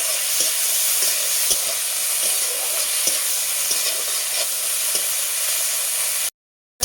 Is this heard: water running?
no